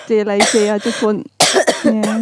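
A woman coughs several times in quick, harsh bursts close to the mic, mixed in with brief speech.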